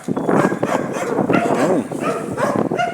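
Several dogs bark and yip close by, loud and continuous over three seconds, with someone briefly speaking under the barking.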